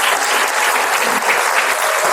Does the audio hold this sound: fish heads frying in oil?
no